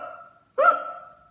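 A voice imitates a single hiccup, a sudden sharp gulping burst after a brief hum-like vocal tone, close and clear, in a children's storytelling reading about a cat with hiccups.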